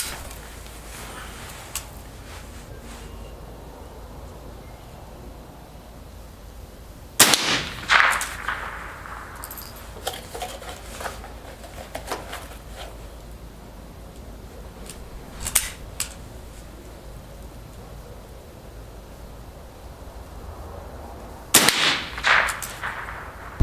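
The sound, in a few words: rifle shots, Federal ammunition fired from a Model 74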